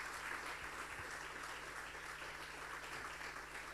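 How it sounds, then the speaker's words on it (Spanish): Congregation in a church applauds during an evening service, a steady, faint wash of many hands clapping, distant and even throughout with a low hum underneath. "Un fuerte aplauso para ellos."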